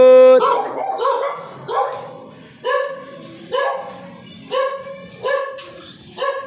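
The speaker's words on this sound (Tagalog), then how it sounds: "Galit yung aso." An angry dog in a narrow alley barks loudly and close at night, a run of about eight sharp, tonal barks in a steady rhythm with short pauses between, the first one stretched into a howl-like yelp.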